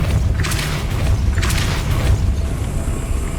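The Depulso spell in Hogwarts Legacy fires with two loud, deep whooshing bursts over a heavy rumbling game background, each blast swelling and fading within about half a second.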